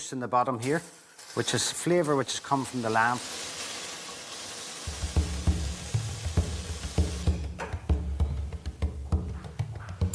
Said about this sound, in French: Juste pour colorer la viande, peut-être 5 ou 6 minutes. Notre agneau est maintenant bien doré.